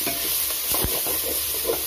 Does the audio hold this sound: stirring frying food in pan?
yes